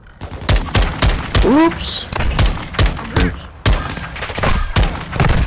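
Sharp, loud gunshots in the Call of Duty video game fire in a regular series of close single cracks with brief gaps between them, while a player talks briefly over the shooting.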